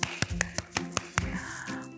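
Preschool children clap their hands at a church service, giving about eight sharp, scattered claps at an uneven pace over a low, steady tone in the background.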